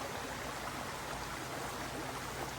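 A creek flowing beneath overhanging bamboo, a steady broadband wash of moving water, constant and fairly soft with no other sounds.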